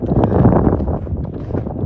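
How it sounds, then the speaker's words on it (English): Strong wind buffets the microphone in a loud, steady rush with low rumbling gusts. "Oh, it's windy today."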